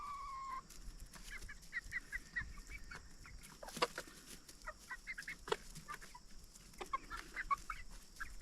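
Chickens cluck and peck while eating cucumbers, with repeated short clucks and chirps scattered close by over a steady farmyard background, no voices.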